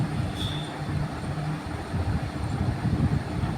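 From inside a moving train headed toward Bandel, a low, steady rumble and rattle of the carriage rolls on continuously, fairly quiet and without voices.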